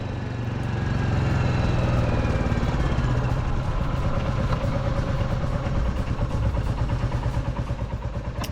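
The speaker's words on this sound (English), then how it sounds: "we'll get the bike out for a quick run down the harbour" Royal Enfield Classic 350 single-cylinder engine running beside a harbour, with a steady, close thumping idle and a fine rhythmic clatter that stays loud throughout.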